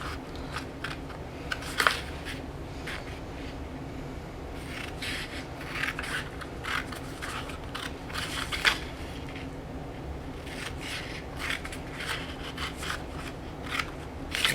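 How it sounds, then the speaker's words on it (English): Scissors snip along vertical lines in a paper craft page, making a run of quiet, crisp cuts and rustles over a low, steady background hum. "cut on the vertical lines here"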